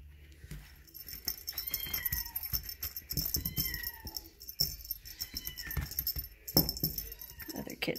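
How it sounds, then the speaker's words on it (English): Eight-week-old silver Egyptian Mau kittens meow repeatedly in high, insistent cries close by, amid rustling and handling noises, with a person speaking softly at times. "Other kittens are hollering for a turn."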